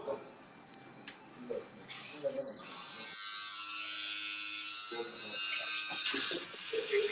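Electric clippers buzz as a head is shaved bald during a live broadcast, entering faintly amid scattered talk and laughter, then running as a steady whine that grows louder toward the end.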